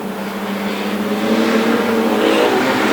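Street stock race cars lapping a track, engines roaring loudly and continuously as they pass, one steady rising drone without voices.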